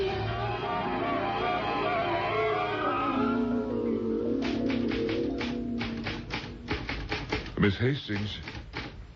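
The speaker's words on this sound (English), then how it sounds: "Oh, I'm typing your letter to the President of the United States" A typewriter in a radio drama, with a voice talking at first, then a run of quick sharp key taps in uneven bursts, close and fairly loud, with talk resuming near the end.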